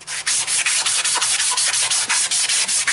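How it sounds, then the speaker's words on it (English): Ferro rod handle spinning on a lathe and sanded with 3M 220-grit flex-back sandpaper: a loud, steady, close hiss with a rapid rhythmic pulsing, no voices. "Pretty cool sandpaper. It's got a flex back on it, like rubber. 220 3M product."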